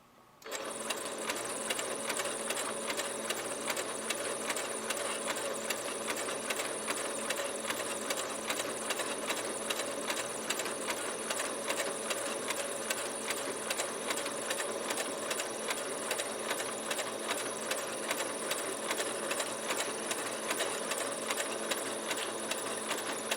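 A sewing machine stitches a fabric ruffle in one long, unbroken, fast-buzzing run, close and steady throughout.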